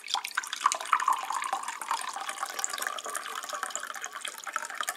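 Liquid trickles steadily into a glass, a continuous close pour with faint splashy detail and no talking.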